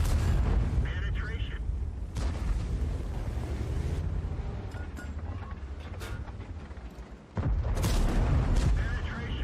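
An M48 Patton tank's main gun fires in World of Tanks, heavy booming blasts over a constant engine rumble, with one loud shot near the end; a voice talks throughout.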